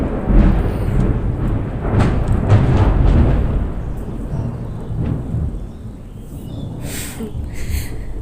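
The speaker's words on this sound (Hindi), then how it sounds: "बाप रे इतना बादल इतने ज़ोर से गरज रहे हैं कि पूछो मत" Loud thunder rolls and rumbles through the first winter rain, a long low boom swelling and fading over steady rainfall, with a few sharper cracks near the end.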